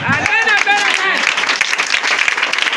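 Congregation applauding in a church, a dense wash of clapping that starts after a brief voice and runs steadily to the end, close and fairly loud.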